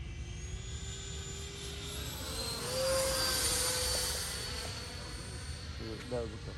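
A Freewing A-4E/F Skyhawk RC jet with a 5280RC afterburner runs at about 80% throttle, a steady whooshing turbine roar that swells as it passes, then eases off under a voice.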